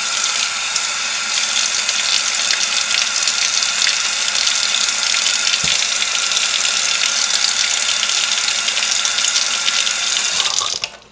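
Water gushes steadily from a sink tap for a soap lather test, a loud continuous hiss that runs almost unbroken before cutting off near the end.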